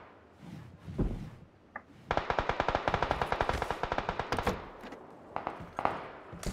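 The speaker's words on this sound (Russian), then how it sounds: "стреляет уже кто-то" Automatic weapon fire in the battle royale game PUBG rattles out as a long rapid burst of sharp shots, followed by a few scattered single shots, loud and close, with no talk over it.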